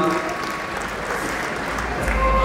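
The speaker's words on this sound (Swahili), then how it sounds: "Tuwapigie makofi Markin tafadhali" Steady clapping from a crowd at a charity fundraising event fills the whole stretch, a dense, even patter of many hands at moderate loudness with no voices on top.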